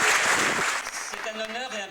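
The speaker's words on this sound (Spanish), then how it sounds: "les pido un aplauso" Audience applause breaks out in a hall after a guest is introduced, a dense burst of clapping that fades over a couple of seconds as a voice begins speaking.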